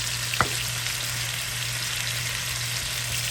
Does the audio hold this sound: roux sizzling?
yes